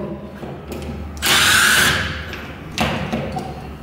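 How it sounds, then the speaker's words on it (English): A power drill backs out screws on a sliding patio door lock, with one loud close whir of about a second followed by a short second burst and faint handling clicks. "So we'll back these screws here off."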